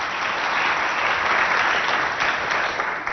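Audience at a televised school quiz show in Abéché applauding steadily and loudly for about three seconds, a dense continuous wash of clapping with no voices on top.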